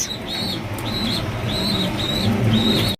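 Bombay pigeons coo in repeated soft rolling calls, a pair kept for sale, with several evenly spaced coos close by over a steady background hum and no talking.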